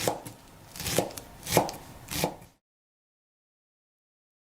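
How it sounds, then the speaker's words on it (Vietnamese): A knife chopping green onions and cilantro on a cutting board, three or four crisp, evenly spaced chops close by, followed by silence. "mình xắt nhỏ thêm 2 tép hành luôn và thêm một ít ngò rí nữa"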